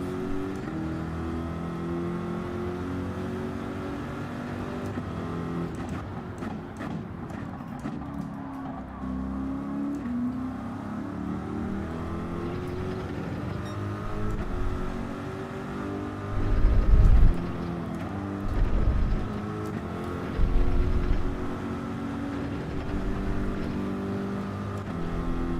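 Car engine in Gran Turismo 7 revving and accelerating hard through gears, a sustained rising and falling whine with harmonic sweeps, plus a few low thumps near the end.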